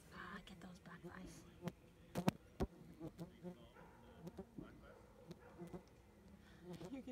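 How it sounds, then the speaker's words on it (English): Black flies buzz faintly around an outdoor lakeside spot, a thin intermittent hum under scattered sharp knocks and quiet voices talking nearby. "get those black flies"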